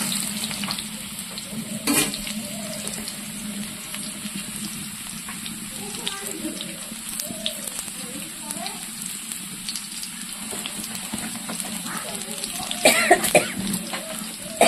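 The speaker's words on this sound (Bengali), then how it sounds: "আলুটাকে লাল লাল করে ভেজে নেব।" Potato pieces fry in oil until reddish-brown, giving a steady low sizzle over a constant hum, broken by occasional stirring clatters, a cough near the end and a faint voice in the background.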